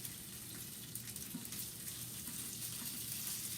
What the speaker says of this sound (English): Kind of give the one side of your salmon that last good brown sear.